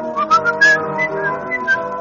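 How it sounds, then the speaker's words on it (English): A melodic whistled tune, steady and close, with short rising and falling phrases over a sustained musical backing. "leaned back in the soft, easy chair and whistled."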